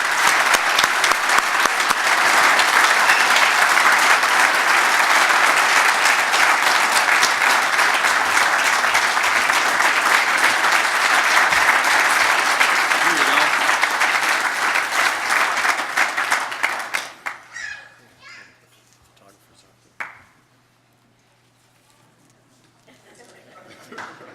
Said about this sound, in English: let's give a round of applause for tonight's inductee